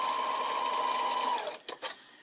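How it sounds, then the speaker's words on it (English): A sewing machine stitches fabric in a steady, close, fast whir for about a second and a half, then stops with a couple of short mechanical clunks. "line our material up, and then we want to sew it down"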